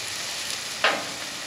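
Sausage sizzles on a Camp Chef four-burner griddle, a steady soft crackling hiss under which a short sharper burst of spitting sizzle flares up briefly, with no one talking.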